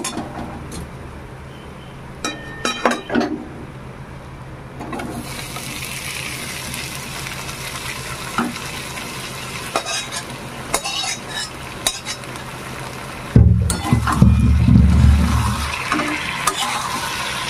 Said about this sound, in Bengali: আলুকে এবার খুব ভালো করে মশলার সঙ্গে মিশিয়ে একটু ঘাটা ঘাটা করে রান্না করে নেব